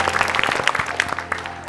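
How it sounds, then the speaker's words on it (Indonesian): A studio audience on an Indonesian talk show claps, a dense burst of many close, crisp hand claps that stays loud and steady, with no voices heard. "Tepuk tangan dong."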